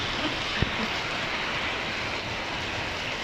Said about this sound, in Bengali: সুন্দর বৃষ্টি আপনাদের দেখাইলাম